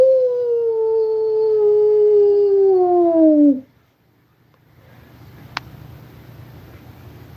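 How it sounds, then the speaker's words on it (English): A long, loud, close howl slides slowly downward for about three and a half seconds and then cuts off, followed by quiet room noise with one faint click. "There's a howl right there."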